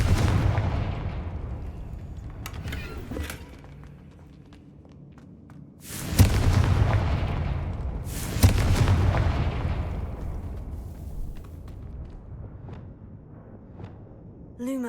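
Confringo fire-blast explosions in Hogwarts Legacy go off as two loud booming bursts a couple of seconds apart, each decaying into a rumbling tail, with quieter clatter and low rumble between them.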